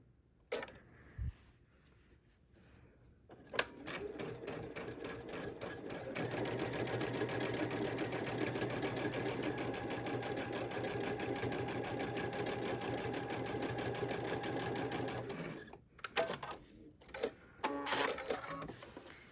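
A digital sewing machine fitted with a dual feed foot and stitch-in-the-ditch sole runs an edge stitch in one long, steady mechanical whir of needle strokes. A few clicks and handling noises come before and after.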